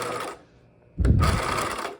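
A sewing machine topstitching a backpack strap starts with a short whir, goes quiet for a moment, then runs again steadily and close by.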